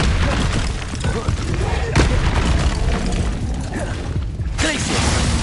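A Bombarda spell blasts in Hogwarts Legacy, with loud booming bursts that erupt repeatedly over dense game noise, one sharp impact standing out near the middle.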